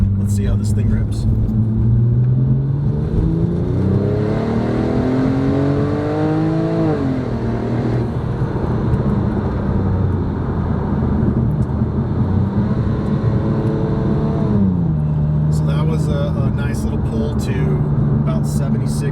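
A Porsche 997 Turbo pulls hard in second gear onto a freeway, its engine note climbing steadily in pitch through a sustained loud rumble, with a brief dip before the rise resumes, heard from inside the car.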